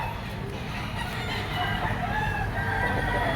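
Roosters crowing and hens clucking at a busy open-air chicken market, a dense, continuous wash of bird calls with distant background chatter.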